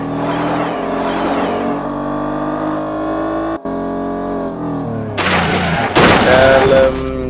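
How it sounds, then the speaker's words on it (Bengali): An orange Mercedes G-class in an Android driving game hums with a steady engine drone, then gives a couple of sharp crunching bursts as it bumps into another car. "ভুলবশতে ওই গাড়ির সাথে টক্কর লেগে"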